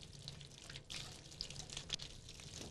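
Water runs steadily from a tap to fill a hot bath, a continuous splashing rush with brief bright drips and spatters throughout, close and moderately quiet.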